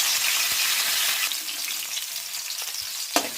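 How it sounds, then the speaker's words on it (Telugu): Onion and green chili fry in hot oil for a Kabuli chana curry, with turmeric about to go in, giving a steady bright sizzle and crackle and a few spoon stirs near the end. "ఉల్లిపాయ పచ్చిమిరపకాయ వేసి వేయించుకున్నాము. నెక్స్ట్ పసుపు కూడా యాడ్ చేద్దాం."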